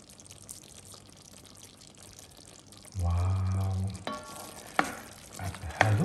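Squid and potatoes sizzle in a pan, quiet at first, then a loud steady frying hiss swells as the mix is stirred, followed by scraping and a couple of sharp utensil knocks.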